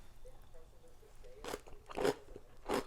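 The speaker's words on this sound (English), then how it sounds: "It is so crunchy. Now, I know y'all can hear that crunch, right?" Someone chews homemade fermented sauerkraut, giving three loud, wet crunches in quick succession close to the mic. Faint chewing noises sit quietly between the bites.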